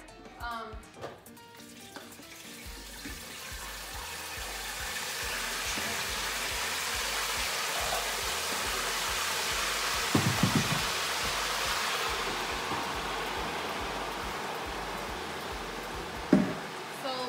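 Marinated pork drops into a fryer and the oil builds to a steady hiss and bubbling sizzle, close and moderate, with a couple of sharp clanks along the way.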